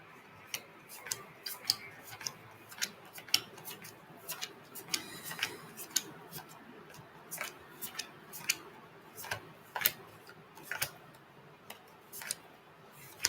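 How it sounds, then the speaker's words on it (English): Tarot cards being shuffled by hand, a quiet run of crisp irregular clicks and riffling snaps scattered over a faint background, with no talking. "let's shuffle."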